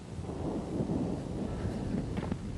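A low, continuous roll of thunder from an electrical storm rumbles at moderate distance, fairly quiet and steady with slight swells, with no one speaking.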